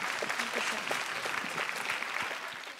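Clapping from a studio audience at a children's singing contest, steady applause throughout with a few louder individual claps mixed in, fading slightly at the end.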